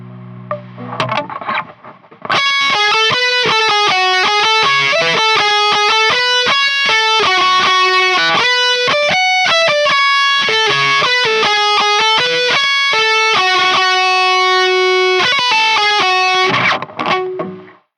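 An Epiphone Les Paul Gothic Studio electric guitar plays a loud, sustained lead line through heavy distortion with a chorus-like sheen, with melodic single notes and held bends running continuously before ringing out at the end.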